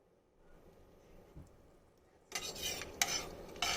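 Whole cardamom, cinnamon and black pepper drop into hot oil for kacchi biryani and sizzle sharply from the midpoint on, with scraping stirs against the pan, after a quiet lead-in.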